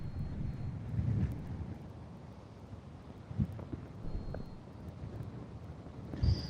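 Wind blows across an open golf course on a live round, a steady rushing roar buffeting the microphone with a few louder gusts, and no voices are heard.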